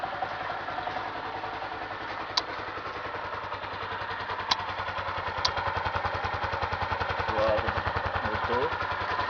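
A Honda CG 125 Fan motorcycle engine idles steadily nearby with a fast, even putter and light mechanical clatter, a few sharp clicks breaking in now and then.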